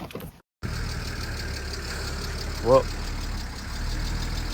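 A BMW E36 engine idles at a steady, even drone throughout, with a brief spoken word near the start.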